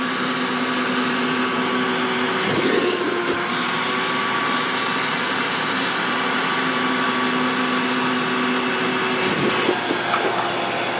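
A shop vac fitted with a carpet extractor kit roars continuously at close range, injecting water into carpet and sucking it back up, with brief gurgling and slurping surges as the wand passes.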